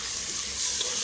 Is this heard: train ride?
no